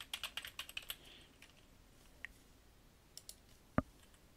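Computer keyboard typing: a quick run of crisp key clicks at the start, then a few scattered single taps after a pause, fairly close and quiet, with no talking.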